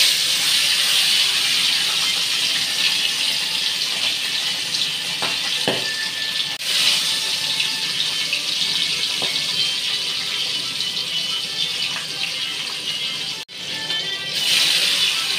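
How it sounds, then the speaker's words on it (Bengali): Chitol fish frying in hot mustard oil in a large wok, a steady loud sizzle and hiss that runs continuously, with a brief clatter near the end. "তেলটা গরম হয়ে গেছে। এবার আমি একে একে 3টে মাছ ছেড়ে দিচ্ছি।"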